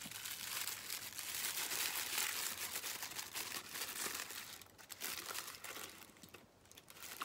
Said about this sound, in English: And inside here we have some stripy paper.